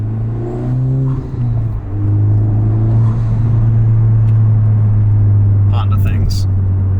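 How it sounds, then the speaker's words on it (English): A Honda Civic Type R FL5 with an aftermarket turbo exhaust gives a loud, low, steady drone at cruising speed, with a brief dip before settling into a constant hum while people talk in the cabin. "that's just normal like 4-cylinder turbo fat exhaust pipe drone"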